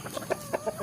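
Free-ranging Indonesian village chickens cluck in a few short, separate bursts, moderately close, with no talking.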